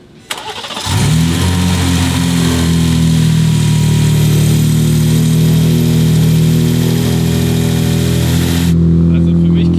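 A Holley-equipped big block V8 cranks over and catches about a second in, then settles into a loud, steady, deep rumbling idle that runs on with little change, near and dominant.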